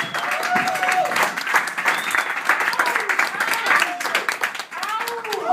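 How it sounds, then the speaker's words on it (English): A crowd at an improv and sketch comedy show applauds continuously as actors come on stage, dense clapping with cheers and whoops rising over it throughout. "Give them a big round of applause."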